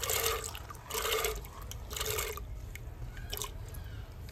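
Water and dried peas are poured into a pressure cooker on a stove, giving several short, splashy pours close by with brief pauses between them.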